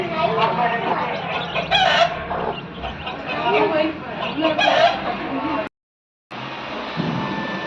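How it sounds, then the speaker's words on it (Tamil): Small chickens and chicks at a Bhogi celebration at a school, clucking and calling close by in bursts, mixed with people talking throughout, before a brief dropout and a quieter tail. "சின்ன சின்ன கோழி இருக்கு ஆட்டுக்கோழி குஞ்சு"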